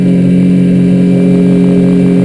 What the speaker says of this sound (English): As you see, the boat runs nice and clean,